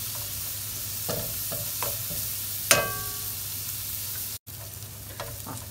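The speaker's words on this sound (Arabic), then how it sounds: "كده البصله بس اديناها تقلبتين ثلاثه" Chopped onion frying in a pan with meat and a couple of small garlic cloves, stirred a few times: a steady low sizzle broken by several scraping strokes of a utensil and one sharp metallic clink, with no talking.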